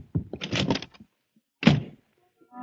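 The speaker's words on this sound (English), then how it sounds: "the slam of the door, Miss Loring was gone" In an old-time radio detective drama, a door slams shut with a single heavy bang and short decay, right after a tense exchange between a man and a woman.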